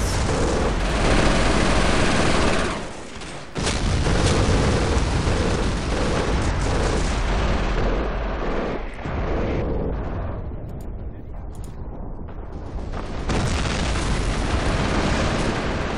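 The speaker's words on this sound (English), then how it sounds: "Put some mortars on their heads." Mortar fire and explosions in the World War II strategy game Company of Heroes, heavy booms and blasts that roll into one another, loud and dense with short dips between bursts.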